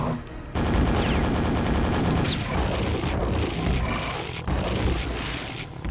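Rockets fired at a fiend in the Quake video game: repeated loud launches and booming explosions burst out close together, with crackling bursts and short pauses between them, and no voices.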